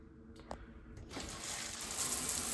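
Shower water starting to run in a bathroom, a few faint clicks and taps, then a steady hiss of spray building louder over a couple of seconds, with no talking.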